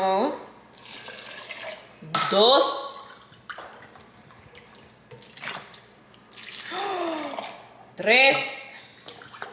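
Water is poured in several separate bursts into a blender or jar with almonds while making homemade almond milk, each short pour splashing close by, between bursts of a woman counting aloud.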